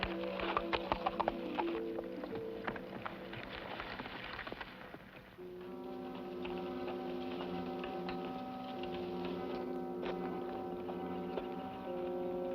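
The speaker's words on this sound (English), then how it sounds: "Men come on horse, Kemo Sabe" Hooves clip-clop in a steady rhythm over a sustained musical backing, the hoof beats sharper and busier at the start.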